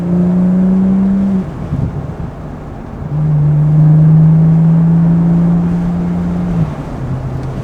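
A BMW F30 with a B58 engine and muffler delete accelerates hard, its exhaust note rising in pitch through gear pulls with a brief dip between, loud and close.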